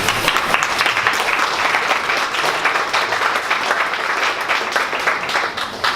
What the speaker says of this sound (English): Can you please stand and give her an applause?